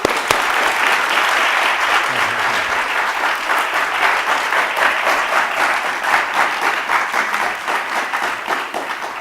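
Audience applause at a university diversity presentation, steady dense clapping from a seated crowd lasting throughout, fairly loud and continuous before gradually thinning toward the end.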